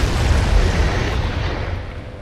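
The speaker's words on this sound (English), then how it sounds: "And that explosion gives the curse, and it just gave me like poison as well." In the video game Dark Souls III, a ring's magic triggers an explosion, heard as a loud, broad booming rumble that slowly dies away, with no speech over it.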